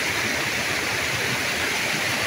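Tinago Spring Falls, a waterfall in Ayahag, St. Bernard, Southern Leyte, roaring as a loud, continuous broadband rush of falling water, close and unbroken.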